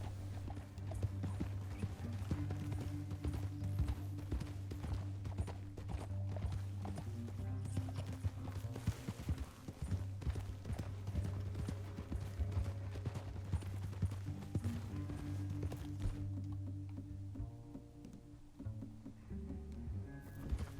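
Rhythmic hoofbeats of a galloping horse in Red Dead Redemption 2 drum steadily over a low droning music bed, fading slightly toward the end.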